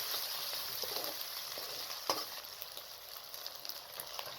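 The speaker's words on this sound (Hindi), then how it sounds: "कढ़ाई के अंदर हाफ कप कुकिंग ऑयल को शामिल कर दें, साथ में प्याज को डाल दें।" Onion, garlic and ginger fry in half a cup of cooking oil in a wok, giving a steady bright sizzle with a faint stirring scrape and a brief clink midway, close and continuous without talk.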